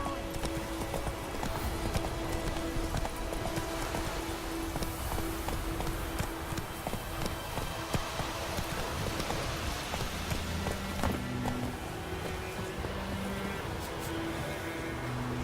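Roach the horse gallops in The Witcher 3, hooves pounding in a steady, rapid clip-clop rhythm that carries on throughout, close and loud, with faint ambient game sounds.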